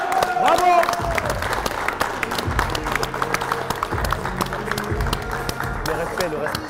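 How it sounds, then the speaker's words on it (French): An audience at a heavyweight professional fight night applauds with scattered, uneven clapping after the bout, mixed with crowd noise and people talking nearby. "Applaudissements les gars."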